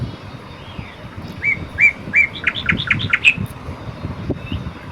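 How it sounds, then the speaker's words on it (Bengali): Several bright, quick bird chirps repeat in a short run over a low background rustle, then fade, leaving quiet outdoor ambience. "পাখির আওয়াজটা তোমরা শোনো একবার বন্ধুরা, কী সুন্দর"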